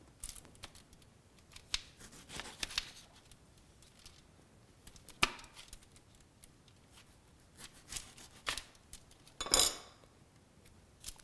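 Knife cutting tomatoes in half on a board for tomato and mushroom soup, with scattered close, sharp clicks and slicing taps at uneven intervals against a quiet room.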